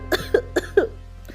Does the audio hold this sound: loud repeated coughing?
yes